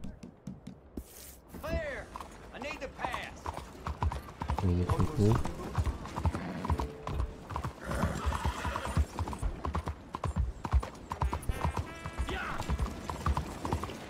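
Horse hooves clip-clop steadily at close range while riding in Red Dead Redemption 2, with an occasional whinny, mixed with game ambience and someone speaking Polish over much of it.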